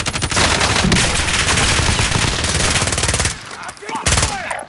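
Rapid automatic gunfire from a video game shooter rattles loudly and continuously for a few seconds, breaking off briefly before a final burst.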